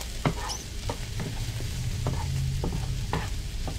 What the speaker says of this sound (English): Some of the onions are browning up.